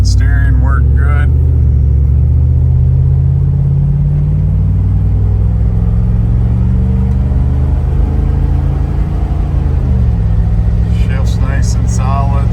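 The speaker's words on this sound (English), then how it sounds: "I know the wind noise is from the wing window over there open on the other side." Steady loud wind and road rumble fill the cabin of a 1990 GMC Jimmy with a 700R4 transmission, driving with a wing window open; a low engine drone underlies it throughout.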